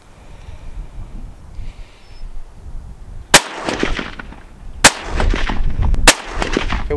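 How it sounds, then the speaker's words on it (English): .223 rifle shots fired at doubled-up steel armour plates: three sharp, loud cracks at roughly 3.3, 4.9 and 6.1 seconds, each followed by a rumbling echo, after a quiet start. "We'll shoot it again with a 223 and see if that stops it."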